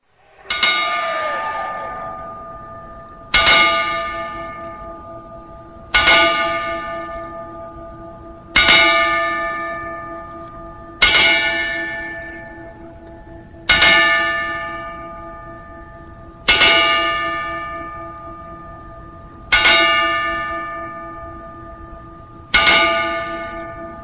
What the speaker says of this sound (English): we are taking a 10-bell salute for you